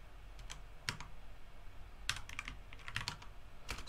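Typing the autoreconf command on a computer keyboard, a series of close, crisp key clicks in irregular bursts over a quiet background, with no speech.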